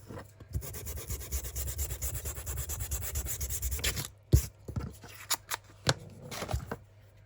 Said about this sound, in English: And then sand the edges.